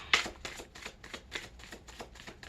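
Tarot cards are shuffled by hand in a quick, steady run of about nine soft papery riffles, close up and fairly quiet, with no talking.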